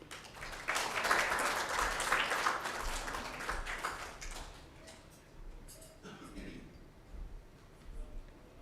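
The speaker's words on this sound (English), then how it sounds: "a round of applause to our head of program" Audience applause at a World Malaria Day event, a burst of moderate clapping from a seated crowd that swells then tapers off over several seconds, with murmuring and a few scattered late claps as it fades.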